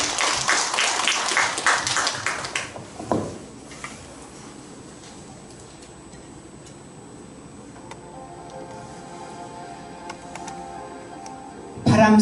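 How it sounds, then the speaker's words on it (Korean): An audience at a poetry recitation event at a university lifelong education center applauds warmly for about three seconds to welcome the reciter, then the room falls quiet with faint background noise and a brief clap at the very end. "여러분 뜨거운 박수로 환영해 주시기 바랍니다"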